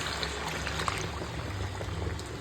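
Boiled potatoes and meat stock are poured into a pan, making a brief wet splash and a liquid gush over a faint, steady background.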